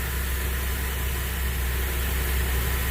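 A Pontiac G8 with a 3.6 V6 idles after a timing chain job, a steady even low rumble with a constant hum and no revving, close and loud throughout.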